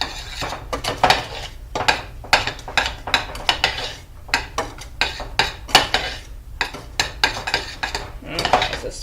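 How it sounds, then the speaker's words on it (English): A stuffing mixture with breadcrumbs is stirred in a bowl, giving repeated scraping and clinking of a utensil against the bowl in a steady rhythm, close and clear, with no talking. "So stir that up really nice."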